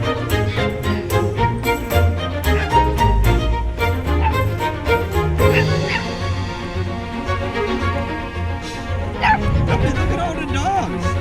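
Several puppy mill rescue dogs bark and yip in rapid bursts nearby, with whining and whimpers mixed in, under some talking.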